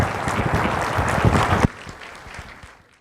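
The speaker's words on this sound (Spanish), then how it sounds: "Un aplauso, por favor, para Jesús." A short burst of applause from a crowd, dense clapping that cuts off abruptly and leaves a few scattered claps trailing away.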